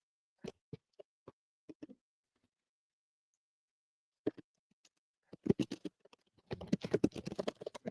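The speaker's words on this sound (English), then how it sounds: "I'm totally like typing it right now." Short bursts of keyboard clicks come in scattered clusters with pauses between them, then a denser run of rapid tapping near the end.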